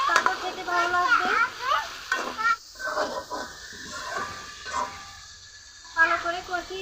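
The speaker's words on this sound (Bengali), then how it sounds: "আলু দেওয়ার পর আরও কিছুক্ষণ কষিয়ে নিতে হবে, ভালো করে কষিয়ে নিতে হবে" Potatoes sauté in a pan for a vegetable curry, a soft sizzle with intermittent stirring scrapes running under a voice that talks through most of the clip.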